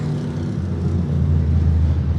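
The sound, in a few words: demolition derby car engine blowing up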